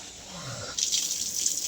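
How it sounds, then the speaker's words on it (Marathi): Water gushes from a tap, a steady splashing stream that swells louder midway, preceded by a brief low rumble. "पाणी भरून झालं सगळं"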